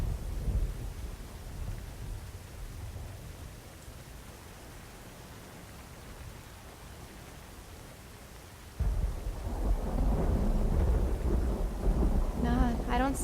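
Thunderstorm with steady rain in the game Myst Uru, set in a desert: a broad rain hiss with low rumbling thunder, then a louder, closer burst of rain and rolling thunder in the second half, with no one talking.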